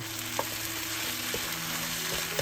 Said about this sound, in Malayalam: ഇതിലേക്ക് 3 ചെറിയ തക്കാളികൾ നീളത്തിലരിഞ്ഞത് ചേർക്കുക. 3 മിനിറ്റോളം നന്നായി വഴറ്റുക.